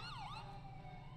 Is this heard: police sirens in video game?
yes